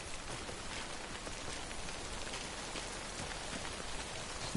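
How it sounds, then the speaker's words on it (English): Steady, soft rain in a video game hisses evenly throughout, a constant wash of patter with no voices. "It's raining again."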